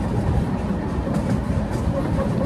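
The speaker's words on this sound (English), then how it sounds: "These narrow gauge railways, I really love them." A narrow gauge railway train rolls past a seaside lido in Greater London, a close, steady low rumble of wheels and carriage with faint rhythmic rattling throughout.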